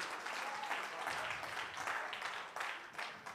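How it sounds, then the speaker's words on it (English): Church congregation clapping hands in praise during a worship service, a dense steady patter of many hands with a few louder bursts, moderately distant and filling the room with no talk over it. "somebody ought to give the Lord a hand clap of praise."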